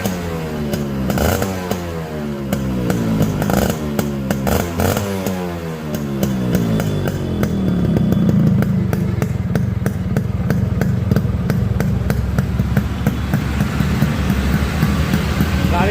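A Yamaha RX 100 two-stroke motorcycle starts and idles with a rattling putter, then revs repeatedly, its engine note climbing and falling in loud bursts before settling into a rough, fast idle, heard up close.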